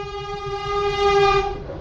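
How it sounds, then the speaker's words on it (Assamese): A Vande Bharat train sounds a loud, sustained horn, a rich tonal blast holding steady for over a second before tapering off, with low rumbling rail noise beneath. "এইটো বন্দে ভাৰত গুচি গ'ল"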